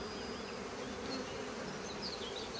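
Honeybees buzz steadily around an open hive during a rapeseed nectar flow, a dense continuous drone close to the listener with no voices over it.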